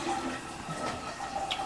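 Water running steadily from a newly installed Delta shower trim while it fills for a temperature check, a continuous close splashing rush throughout.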